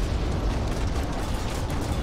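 Nova cannon fire and explosion in the space strategy game Battlefleet Gothic: Armada 2, a dense, loud, sustained rumbling blast with heavy low-end roar filling the whole moment, no talk.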